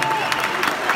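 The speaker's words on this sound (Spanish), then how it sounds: "Fuerte el aplauso para mis hermanos." Audience at a Spanish-language Diamante Internacional Oro gathering in New Jersey clapping for the day's moderators, a brief wash of crowd applause with a faint murmur mixed in.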